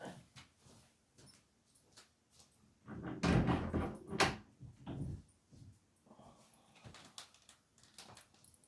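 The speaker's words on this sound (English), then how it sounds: "I'm going to shut that door because the wind will keep banging it." A door is pulled shut against gusting wind in a room, giving a muffled thud and knock in the middle among quieter rustles and shuffling, fairly faint overall.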